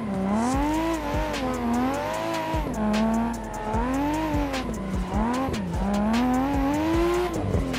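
Cars tandem drifting in the Assetto Corsa racing game: loud, continuous engine revving with rising and falling pitch swells and steady tire squeal throughout, several cars close together.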